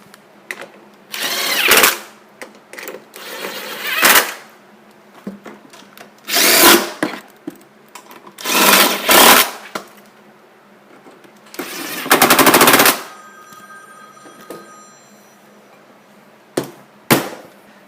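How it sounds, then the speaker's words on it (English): A 10mm socket tightens down the carburetor bolts on a 50cc Chinese scooter. It comes in repeated short mechanical bursts of a few seconds each, with quiet gaps and small clicks between them. "go back with your 10mm socket and tighten everything down"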